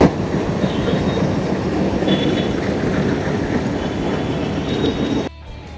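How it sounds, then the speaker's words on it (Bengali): Train engine being turned around at Rajbari railway station, a steady loud rumble of rolling wagons with faint high wheel squeals, running continuously before cutting off abruptly near the end. "এখানে আর কি ট্রেনের যে ইঞ্জিনটা ঘোরাচ্ছে"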